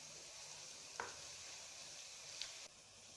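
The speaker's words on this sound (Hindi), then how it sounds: "प्याज को हमने जो है वो गोल्डन ब्राउन करना है।" Onions fry in a pan until golden brown, giving a steady, faint, close sizzle. There are a couple of brief stirring scrapes and no talk.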